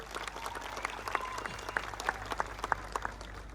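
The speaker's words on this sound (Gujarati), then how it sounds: "ત્યારે એમને તાળીઓથી આપણે વધાવી લેવાના છે" A crowd claps to welcome the district panchayat president and vice president, a thin scattered patter of hands with sharper individual claps standing out, moderately distant over a low background hum.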